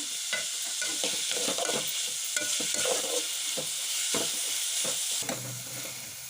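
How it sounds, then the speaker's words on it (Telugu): Salted filling for a paneer bread sandwich fries in a pan with a constant sizzle and hiss, broken by repeated scraping strokes of a spatula stirring it. "చిటికెడు సాల్ట్ వేస్తే తొందరగా ఫ్రై అవుతుంది."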